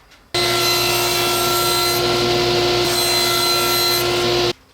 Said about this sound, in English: I want to cut this plywood down to a 9-inch by 9-inch square